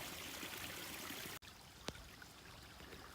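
Fast-flowing stream water on the Appalachian Trail in Pennsylvania rushes steadily close by, cutting out briefly partway through before resuming a softer, continuous babble with a small splash.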